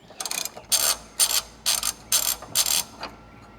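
Ratchet wrench clicking in five quick bursts while loosening the exhaust muffler bolts on a BMW 335i, close and crisp with short pauses between strokes, then a fainter final click.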